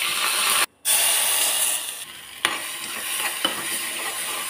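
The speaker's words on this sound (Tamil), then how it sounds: "எண்ணெய் பொடி கடுகு பொடிட்டோம். கடுகு பொடியுது. 2 கருவேப்பிலை போட்டுக்கிறேன்." Mustard seeds and curry leaves spluttering in hot oil in a kadai, a loud bright crackling sizzle with sharp pops and a brief gap near the start, no talking.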